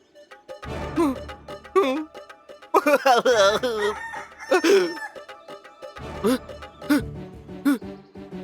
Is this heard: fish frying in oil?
no